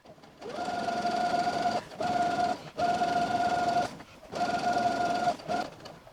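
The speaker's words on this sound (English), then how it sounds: "Make sure to backstitch at the beginning and end." A sewing machine stitches a fabric bowl cover in four steady bursts of a second or so each, a close, even mechanical whir with brief pauses between runs.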